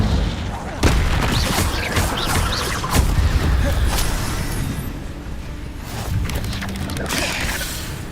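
Repeated booming, crackling fire-spell blasts from the Incendio spell in a Hogwarts video game, loud and close, several impacts spread across the clip over dense rumbling game effects.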